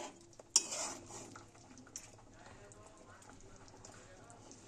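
Pieces of rohu fish are turned in a frying pan, with a sharp metal clink of the utensil against the pan early on, a second knock soon after, then quieter scraping and handling.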